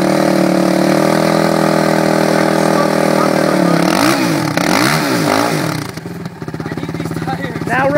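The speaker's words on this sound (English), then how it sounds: "Burnout." A Suzuki 450R quad engine revs hard and holds at high speed on a car hood during a burnout, its pitch swooping up and down before dropping off with sputtering.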